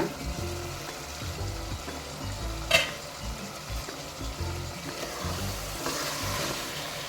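Chicken biryani masala fries in a pot over medium flame, a steady close sizzle with scraping stirs and one sharp metallic clank from the lid or spoon.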